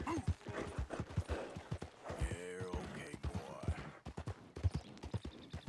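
Rhythmic hoof clip-clops in a steady trot under people talking, with a brief horse whinny in the middle, from the video game Red Dead Redemption 2.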